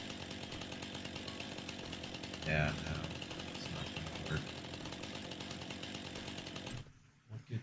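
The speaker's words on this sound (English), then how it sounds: "These come out with a chainsaw." A chainsaw in the Farming Simulator video game buzzes steadily while someone talks over it, then cuts out near the end.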